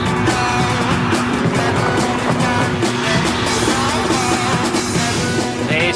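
A race car drives past during an uphill race, with a steady engine roar, rushing road and tire noise, and brief squeals, close and loud with no break.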